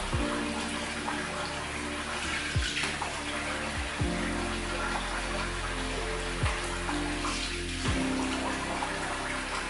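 Water runs steadily from a tap while shaving soap is rinsed off after a wet shave, a continuous hiss and splash broken by a few soft knocks and clunks, close and alone with no talking.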